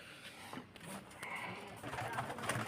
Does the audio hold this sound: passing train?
no